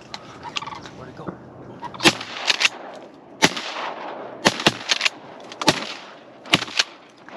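Shotguns fire while duck hunting in Wisconsin: a rapid string of about a dozen sharp, loud blasts from close by, some in quick pairs, with faint voices and rustling between shots.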